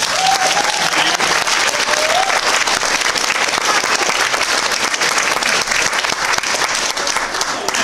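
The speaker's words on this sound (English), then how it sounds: "so everybody, another round of applause" A convention crowd at a cosplay competition applauds loudly and continuously, with dense clapping filling the hall from start to finish.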